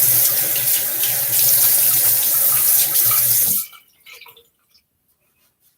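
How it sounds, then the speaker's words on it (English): A bathroom tap runs into a sink while a face is wetted during a wet shave, a close steady splashing gush that stops abruptly, leaving a few scattered drips and small sounds in near silence. "Get my face wet one more time."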